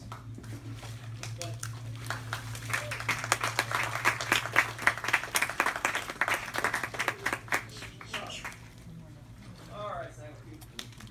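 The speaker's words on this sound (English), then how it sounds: "I want you to give this beautiful beast a big round of applause." An audience claps enthusiastically for an alligator at an Everglades animal show, the applause swelling into a dense burst and then tapering to scattered claps, with a low steady hum beneath.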